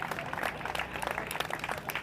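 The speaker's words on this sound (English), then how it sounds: "Give these ladies a round of applause." Crowd applause for the first-, second- and third-place female competitors at an Air Force Alpha Warrior championship, steady clapping from an audience at moderate distance with no pauses.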